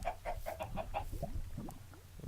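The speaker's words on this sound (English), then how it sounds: "These chickens are going to drive me nuts until I kill them here." Chickens in the video game Minecraft cluck in a quick run of short, evenly spaced clucks, then a few scattered softer clucks trail off, close and moderately loud with no talking.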